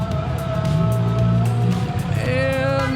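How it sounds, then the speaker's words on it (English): Call to prayer from a mosque in Tel Aviv, a sustained melodic voice carrying over street ambience with traffic noise, heard at moderate distance. "they have the call to prayer going right now from that mosque"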